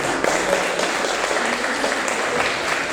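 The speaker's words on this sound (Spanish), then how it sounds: "Dale un fuerte aplauso a Jesús." Church congregation giving a hearty round of applause, dense steady clapping from many hands filling the space, loud and sustained without a break.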